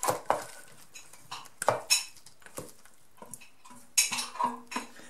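Fried minced meat is spread in a baking dish for a layered potato bake: a spoon or spatula scrapes and taps against the dish in irregular bursts, close and clear, with no talking.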